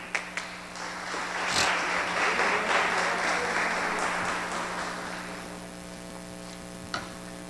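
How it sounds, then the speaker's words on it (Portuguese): A church congregation applauds the actors, a swell of many hands clapping that rises, holds, then fades over about seven seconds, over a steady electrical hum, with a few isolated claps at the edges. "um salve de palmas para os nossos atores"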